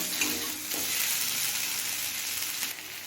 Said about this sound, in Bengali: এবার কাঁঠালি কলাগুলো দিয়ে দেবো কাঁঠালি কলাটা দিয়ে মিনিট পাঁচটা ভেজে নিয়েছি